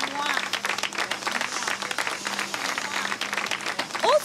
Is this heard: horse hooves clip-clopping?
no